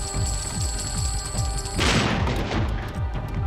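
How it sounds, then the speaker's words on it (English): A cannon fires on the Buccaneer table in Pinball FX 2, a sudden booming blast over the steady music and rhythmic table sounds of the pinball video game. "But I absolutely love the cannon"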